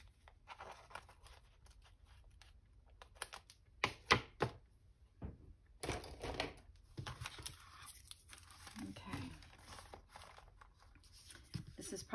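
Scissors snip and slice through paper in bursts of crisp cutting and rustling, close up, with short pauses between cuts.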